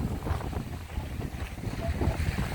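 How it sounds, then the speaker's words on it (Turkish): Wind gusting across the open Sarayburnu waterfront in Istanbul, a steady broadband rush with low rumbling buffets against the microphone, loud and continuous throughout with no voices. "Çok geniş bir açıya sahip olduğu için inanılmaz rüzgarda ve serin bir yer."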